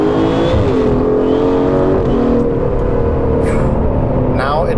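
An Aston Martin DBS Superleggera V12 in Sport Plus mode holds around 4,000 rpm, a loud, sustained engine drone heard from inside the car, with a brief rising rev and faint mechanical chirps near the end.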